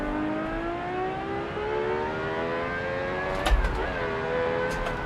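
A simulated car engine in the BeamNG driving game holds a steady rising drone, then briefly revs and shifts around the middle before settling again; loud and close, no talking.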